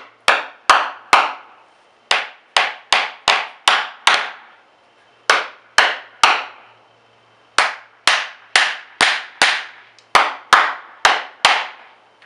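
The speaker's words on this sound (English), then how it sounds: "I'm going to be hammering these in" Bolts being hammered in during a car subwoofer install: a rapid series of sharp, loud metallic strikes in bursts of three to five, close up, with brief pauses between bursts and no talking.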